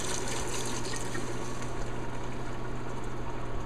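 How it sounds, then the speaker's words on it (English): White wine is poured into a braising pot for osso buco, giving a soft, steady liquid trickle and splash that runs continuously at low volume. "I'm going to add approximately half a bottle of white wine"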